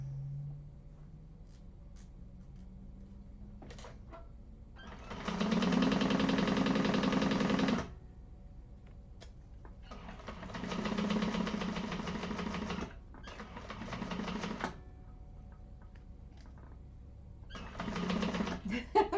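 A sewing machine runs in bursts while stitching a satchel bag, a rapid mechanical whir lasting a few seconds at a time, separated by quiet pauses; a faint voice is heard briefly before.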